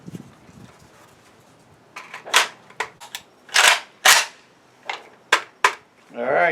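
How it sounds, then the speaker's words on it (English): Rapid series of sharp rifle shots from a PAP M90, roughly eight loud, closely spaced reports in a few seconds, fired close by with brief gaps between bursts and no talking. "Rapid fire. Let's see what she does."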